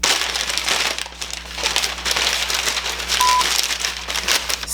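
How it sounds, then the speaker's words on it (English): Packing paper is crumpled and stuffed around glassware, a dense, steady crackling and crinkling close by, continuing without pause. "stuffing and wrapping your glass items with packing paper first"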